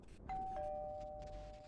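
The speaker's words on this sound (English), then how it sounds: "The sharp ding of our doorbell sounded almost funny after everything I'd just experienced." A household doorbell gives a sharp ding, a bright two-tone chime close by that rings out and then lingers as a sustained tone in a quiet room.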